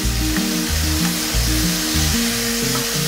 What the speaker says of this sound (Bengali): আলুটাকে এবার একটু নেড়ে চেড়ে নিচ্ছি।